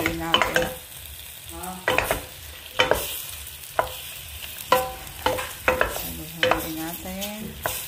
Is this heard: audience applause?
no